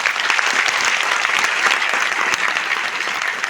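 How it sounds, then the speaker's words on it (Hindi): Audience applause, a steady, dense burst of clapping from a sizeable crowd at an indoor gathering, loud and sustained without a break. "इस चीज़ के लिए बहुत बड़ी ताली होनी चाहिए"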